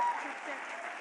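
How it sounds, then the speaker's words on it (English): Applause from the audience at a school annual day, a short burst of steady clapping heard at moderate level, with no other sounds standing out. "please give a round of applause"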